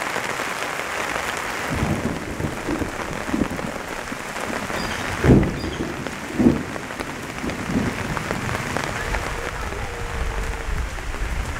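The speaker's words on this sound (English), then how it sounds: "Today it's going to be a rainy day." Rain falls over a flood-hit village in South Sudan in a steady broadband hiss, with a couple of brief louder knocks or splashes partway through and no talking.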